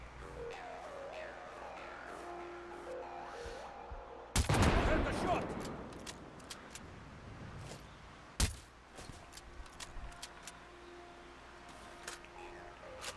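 Gunfire in the video game Nier Replicant aimed at enemies' grenades: a loud burst of rapid shots around four seconds in, then a sharp single crack later, over a quiet game background with occasional soft sounds.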